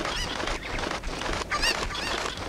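Chickens squawk and cluck loudly in Zelda: Ocarina of Time, several frantic honking cries over constant game background noise, no talking.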